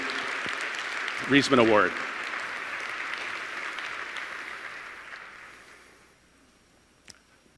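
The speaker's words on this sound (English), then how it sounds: "let's hear a big round of applause" Sustained conference crowd applause fills the clip, with a brief spoken phrase near the start, then the clapping gradually fades out toward the end.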